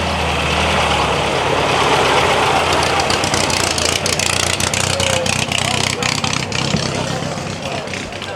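Vintage pre-war cars roll into a small English village, their engines making a loud, steady, low rumble at close range with some knocking, and voices and crowd chatter mixed in.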